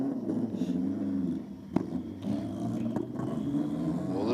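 A loud race car engine rumbles steadily, with a brief cough and sharp pop as the throttle opens, then keeps droning close by.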